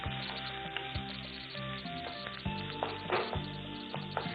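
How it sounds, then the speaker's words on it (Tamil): Onions and green chillies sizzle as they are sautéed in a pan for a Tamil egg curry, a steady frying hiss with occasional stirring knocks, close and continuous with no talk. "நல்லா வதக்கணும்."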